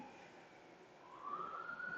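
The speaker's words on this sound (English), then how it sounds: "all I do is hear like sirens" Faint, distant siren wail rising in pitch outdoors on a hot day, emerging from a low background hum and growing slightly louder in the last half of the stretch, with no voices.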